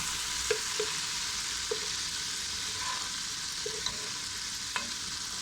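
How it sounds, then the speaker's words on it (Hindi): Masala spices frying in a pan for chicken gravy give off a constant close hiss, with a few soft, sparse clicks from a utensil stirring through it and no voices. "थोड़ा सा भुन गए हैं मसाले"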